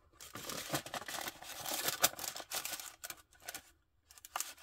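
Scissors snip through grey paper while a small notebook is made for a cooking-themed journal, with close, crisp cutting and rustling paper strokes in a quick, irregular run, no voices.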